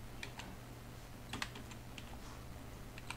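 Someone types on a computer keyboard, quiet clicky keystrokes arriving in short irregular bursts with brief pauses between, close by and alone.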